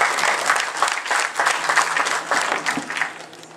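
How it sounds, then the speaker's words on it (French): An audience breaks into sustained applause, a dense wash of clapping that holds steady for several seconds and eases slightly toward the end, with no talking over it. "Nous pouvons acclamer."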